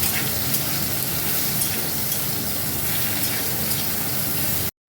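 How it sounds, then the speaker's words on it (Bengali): Sliced ridge gourd frying in mustard oil in a wok, a loud continuous hiss and sizzle that runs evenly and then stops abruptly. "ঝিঙে ভাজা হতে থাক"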